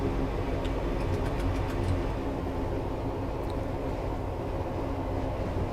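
A Class 158 diesel train in Train Simulator 2018, running between Cardiff and Bristol near 40 mph: a steady low rumble and rolling noise, with faint high clicks early on and no talk.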